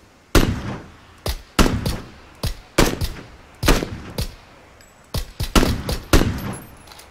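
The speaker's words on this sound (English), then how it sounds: "I was just shooting through the trees" Loud, close gunfire in the battle-royale game PlayerUnknown's Battlegrounds, fired through trees in repeated short bursts of sharp cracks separated by brief pauses.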